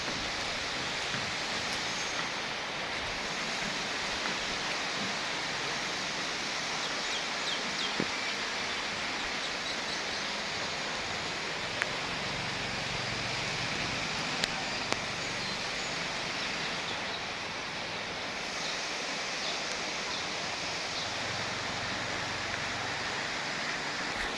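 Morning rain falls outdoors at a Buddhist stupa site in Thailand, a steady, soft hiss of drops that stays even and fairly faint the whole time, with no voices over it.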